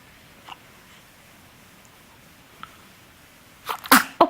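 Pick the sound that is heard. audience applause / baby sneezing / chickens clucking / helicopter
baby sneezing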